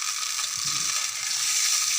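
Hot ghee sizzles steadily in a pan after water and sugar go in for besan sooji halwa, a constant bright frying hiss close up with faint stirring underneath.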